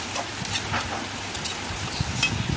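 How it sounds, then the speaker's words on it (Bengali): Soft, steady simmering with faint pops and bubbles from a pot of mutton curry, fairly quiet and continuous. "ঝোলটা টকবক করে আবার ফুটছে,"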